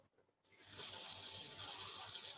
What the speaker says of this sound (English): So let me just rinse the lid as well.